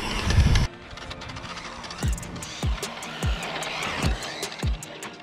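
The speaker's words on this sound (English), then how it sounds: "that's full throttle in the parking lot into a power slide turn" An HPI Audi e-tron RC car driven at full throttle across a parking lot into a power slide: a loud burst of electric motor and tire noise, then a series of rising and falling motor whines pulsing every half second or so.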